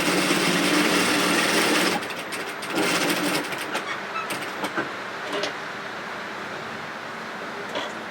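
A sewing machine stitching a seam on a fabric wallet, running in a fast steady whir, stopping, starting again briefly, then giving way to a few clicks and light handling sounds.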